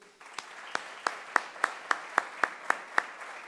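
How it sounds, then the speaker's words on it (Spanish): Hands clap in a slow, even rhythm for award-winning students at a school prize ceremony, about a dozen distinct claps after a brief quiet start, moderately close but soft. "Un aplauso para todos."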